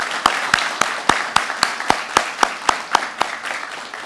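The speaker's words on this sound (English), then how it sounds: "Let's give the families a round of applause for being here" A graduation audience applauds the families, with sparse but distinct individual hand claps ringing out in a loose, fairly regular rhythm over a soft wash of clapping.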